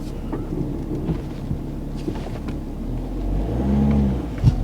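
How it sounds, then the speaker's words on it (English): A Volkswagen Touareg, low on transmission fluid, reverses off ramps with a low engine rumble, soft clunks and a rising drone near the end, close up with no talk. "So brake down, reverse, and it does. It moves straight away."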